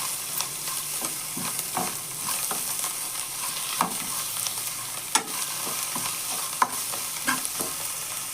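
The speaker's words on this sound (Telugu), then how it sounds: "ఇప్పుడు ఇవి కొంచెం మగ్గేదాకా కొంచెం ఫ్రై చేద్దాం" Amaranth leaves stir-frying in a pan, a steady close sizzle with intermittent scraping and stirring clicks of a spoon against the pan.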